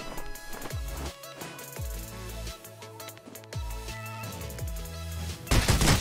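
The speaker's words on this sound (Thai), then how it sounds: "มีเสียงปืนอยู่ใกล้ๆนะเนี่ย" Gunfire in the mobile shooter game Rules of Survival: a few sharp, punchy shots spaced a second or two apart, heard fairly faintly over continuous tonal game sounds.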